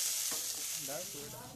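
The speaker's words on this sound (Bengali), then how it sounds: "মশলাটা ভাজা হয়ে যাওয়ার পরে আমি মাখানো কাঁচকলা দিয়ে ভালো করে নেড়ে চেড়ে নেব।" Mashed raw green banana stirred into frying spice paste in a pan for banana chops, a soft scraping stir over a low steady sizzle, close and alone with no voices.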